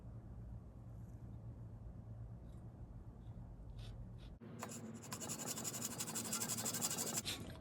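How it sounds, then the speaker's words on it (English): Hand saw ripping through a segmented pen blank with its coarse teeth: after a quiet stretch, a close, steady rasping of repeated saw strokes fills the last few seconds. "I flip it over to the coarse teeth to rip it all the way through."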